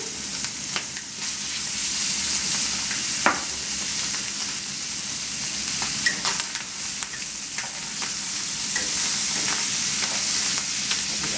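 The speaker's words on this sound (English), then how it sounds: "this is just simply to saute it until it's nice and golden" Chicken pieces sautéing in a pan until golden, a steady close sizzle running throughout with occasional clicks and scrapes of stirring, no talk.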